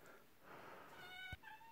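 A cat in a quiet room makes a short, faint meow that rises and then cuts off, with a small thump near its end and no one talking.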